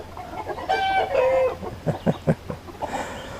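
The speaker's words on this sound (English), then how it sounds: "That's my rescued rooster there." A rooster lets out a drawn-out squawk, then a few short, sharp clucks in a row, close by and fairly loud.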